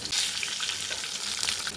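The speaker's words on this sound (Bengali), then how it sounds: "এখানে তেল দিয়ে দিয়েছি 1 টেবিল চামচের মতো, আর এখানে গোটা গরম মশলা দিয়েছি, আর দিচ্ছি শুকনো লঙ্কা 4খানা" Whole garam masala, dried red chillies and bay leaf frying in oil, a steady close sizzle with crackling spits throughout.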